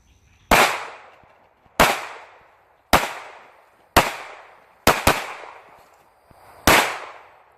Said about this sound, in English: going to move while shooting this short aggressor 2 times, center of mass, and then finish with a very precise shot to the nose